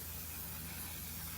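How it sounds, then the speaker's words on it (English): One Size On Till Dawn makeup setting spray is misted from close range, a steady hissing spray that fills the whole moment with no talk over it. "Can't not do my makeup without talking about the One Size On Till Dawn setting spray."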